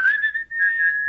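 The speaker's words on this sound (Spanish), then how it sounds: "ahorita va a chiflar el güero" A man whistles a single clear, sustained note with a brief dip partway through, close and fairly loud, with no talk.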